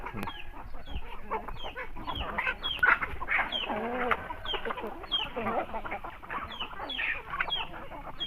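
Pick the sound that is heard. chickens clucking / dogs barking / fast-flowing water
chickens clucking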